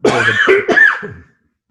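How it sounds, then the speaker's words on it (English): A person coughs in a short burst of a few harsh, throaty hacks close to the listener, about a second long, then falls silent. "Sorry, I coughed."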